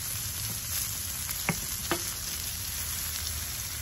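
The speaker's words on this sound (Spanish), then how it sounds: "Aquí estoy asando un ajo para ponerle al guacamole también" Garlic and chiles roasting on a hot surface for guacamole give a steady close sizzle and crackle, with two brief sharp ticks midway and no voices.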